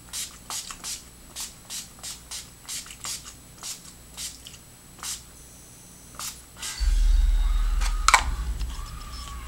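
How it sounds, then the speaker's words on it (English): About a dozen short spritzes from a makeup setting spray bottle come in a quick, even rhythm, then give way to a low steady hum. "I'm going to set my face with the Urban Decay All-Nighter Setting Spray."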